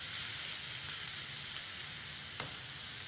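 Mash dal masala fries steadily in a pan, giving a continuous, even sizzle and hiss that holds at the same level throughout, with a faint tap near the end and no voices.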